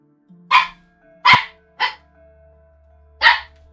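A dog barks four times indoors, three sharp barks in quick succession and then one more after a short pause, loud and close with no talk over them.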